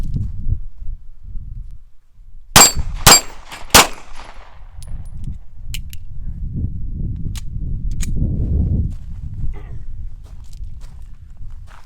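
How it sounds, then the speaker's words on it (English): A PD10 pistol fires three sharp, loud shots in quick succession, followed by scattered faint clicks and shuffling handling noise against a rumbling outdoor background. "And now I'll keep shooting, and I'll just do it with one magazine."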